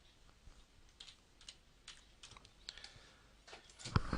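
A username and password being typed on a computer keyboard: quiet, irregular key clicks in short bursts, close by, growing slightly busier and louder toward the end, with no talking.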